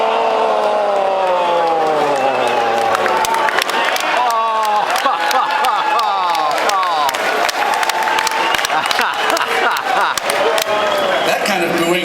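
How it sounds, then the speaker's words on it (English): A large convention crowd in Montreal boos loudly and steadily, a dense, sustained mass of wavering voices with scattered shouts throughout. "That kind of booing, it sounds like some people came up from Toronto"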